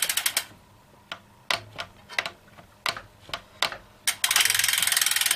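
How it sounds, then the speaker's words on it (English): A small bolt on a triathlon bike's hidden rear brake is tightened with a ratcheting tool: close, crisp clicking in short, spaced bursts, ending in a rapid continuous run of clicks. "we're just going to tighten this one little bolt right there a little bit"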